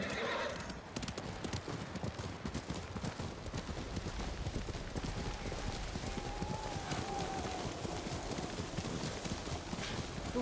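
Horse hooves gallop in a steady rhythmic clip-clop through a snowy video game scene near Kyoto, loud and continuous for about ten seconds, with a horse whinny and a faint voice beneath.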